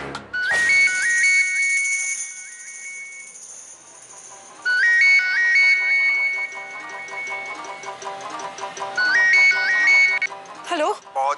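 A mobile phone rings with a repeating melodic tone, three bright phrases cycling loudly and clearly in an indoor drama scene, then cutting off as the call is answered.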